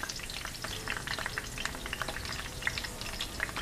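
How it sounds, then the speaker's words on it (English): Tree leaves fry in hot oil in a pan for a warm tomato salad, giving a steady close sizzle with frequent sharp pops and crackles scattered throughout, no voices. "they do pop in the oil, so you might want to keep a distance"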